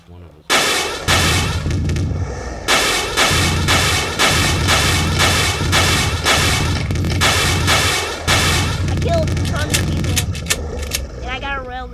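Rocket launcher explosions and weapon fire in the Boxhead video game: a dense, loud barrage of repeated booms and blasts running almost continuously, with game noise throughout.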